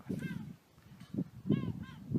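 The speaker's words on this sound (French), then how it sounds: "on entend les mouettes." Seagulls call on an island: several loud, harsh, rising cries in quick bursts, close by, with breaks of quiet between them.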